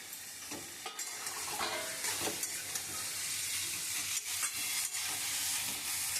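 Cauliflower florets stirred and fried in a poppy seed, cashew and green chilli masala, with a steady crackling sizzle and repeated scraping strokes of a spoon through the pan.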